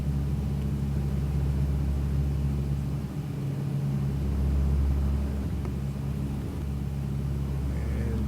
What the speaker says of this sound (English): This is a Dash 8 landing in Calgary